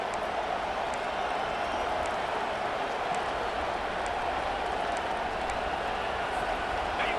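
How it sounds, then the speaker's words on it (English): Stadium crowd in EA Sports College Football 25 roaring steadily and loudly at a late-game moment, a dense continuous wall of cheering noise with no break, in a game stadium setting. "the crowd forces a false start"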